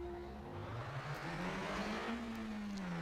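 Race car engine in the racing video game Evolution GT, a steady loud drone rising slowly in pitch as the car accelerates, continuous throughout with no talk.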